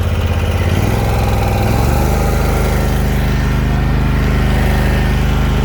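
A 42 inch Hustler Raptor zero turn riding lawn mower engine revs up from a low idle to a steady loud high drone, close and continuous with no talking.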